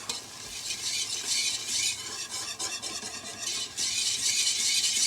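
Milk stirred into a roux for mac and cheese in a pan, a steady close hissing sizzle with soft scraping swirls of the spoon, continuous and fairly loud, no voices.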